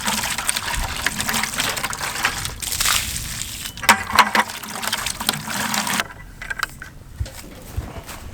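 Water running from a garden hose into a bucket, a steady broadband rush that fills the first six seconds, then drops to a quieter trickle with faint handling noises.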